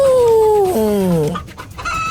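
Rooster character in a Hindi animated funny story crows once, a loud drawn-out call whose pitch slides downward before a brief, clipped tail.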